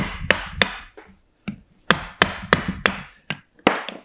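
A chisel is struck repeatedly to chip sapwood off a solid wood bowl blank, about a dozen sharp, close knocks at an uneven, steady pace.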